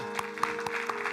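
A church congregation claps briefly, with a handful of evenly spaced claps over about a second above a steady background tone.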